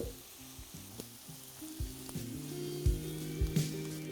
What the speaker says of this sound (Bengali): এটাকে কিন্তু আপনাদের একদম লাল লাল করে ভেজে নিতে হবে